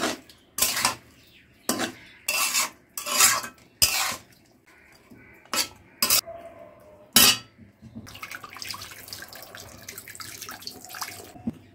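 Hilsa fish being tossed and mixed with spices in a metal pot, heard as a series of loud, separate clanks and scrapes of utensil on pot, then a softer continuous rustle and clatter near the end.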